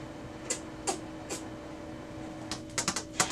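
A Brother MFC-L2720DW laser printer initializing: a series of scattered mechanical clicks and ticks from inside the machine, bunching into quicker taps near the end, over a steady electrical hum.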